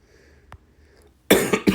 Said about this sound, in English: I don't know why I'm coughing more today.